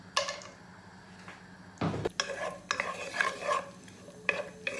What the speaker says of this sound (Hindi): कैशू नट को थोड़ा सा फ्राई करना पड़ेगा।